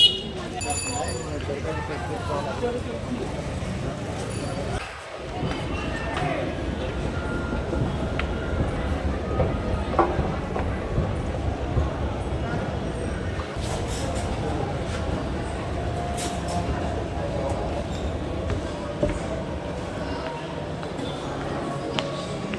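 Steady broadband rumble and rattle of a metro train in motion, heard from inside the car, continuous and fairly loud throughout with a brief dip near the start.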